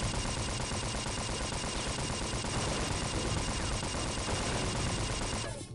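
Sustained loud gunfire in the Unreal Gold video game, a dense continuous rattling burst of rapid shots close and harsh for several seconds before cutting off abruptly.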